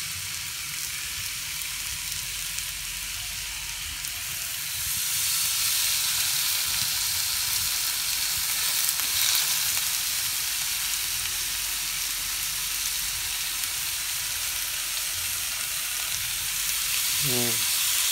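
Thin slices of pork belly sizzle in a hot pan, a steady loud frying hiss filling the whole stretch, growing slightly stronger partway through, with a few brief clinks near the end.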